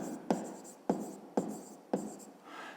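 A pen scratches across paper in four distinct strokes at a steady rhythm, each with a sharp start and a fading tail. The sound is close and quiet, with a faint rustle at the end.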